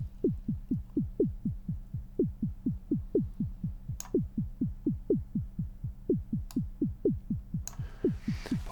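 Swung click track from the Airwindows SoftClock plugin, set for a groove: a steady stream of soft, thumping low clicks in an uneven long-short lilt, with accented beats and a few brief bright ticks.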